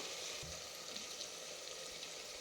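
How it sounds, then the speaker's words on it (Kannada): Brinjal sizzles steadily in hot oil in a pan, a dense continuous frying hiss with a few soft stirring clinks, heard alone up close. "ಬದನೆಕಾಯಿ ಹಾಕ್ಕೊಂಡು ಫ್ರೈ ಮಾಡ್ಕೊಳ್ತಾ ಇದ್ದೀನಿ"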